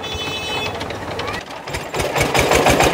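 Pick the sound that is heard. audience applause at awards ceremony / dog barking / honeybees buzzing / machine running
machine running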